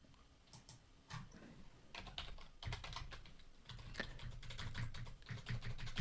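Fingers type on a computer keyboard in irregular bursts of quiet, close clicks and taps that grow busier toward the end, with no one talking.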